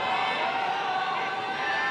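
Dense, steady roar of an animated crowd at a kickboxing match, Tenshin Nasukawa vs Shiro in Japan, with loud, continuous noise filling the arena and no distinct voices standing out.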